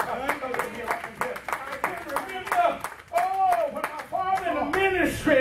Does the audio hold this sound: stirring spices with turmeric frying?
no